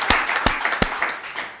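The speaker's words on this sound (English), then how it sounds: "please give them a round of applause again for their service on this board in the county" Sparse applause at a Winnebago County Board meeting honoring retiring county supervisors: a few distinct, fairly close hand claps spaced irregularly over a low room murmur, with no talking.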